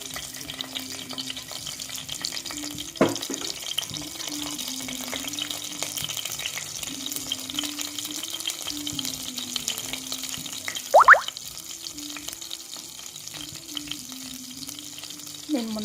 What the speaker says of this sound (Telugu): ఆయిల్ వేడాక లైట్గా అనేది గ్రీన్ చిల్లీస్ వేస్తున్నాను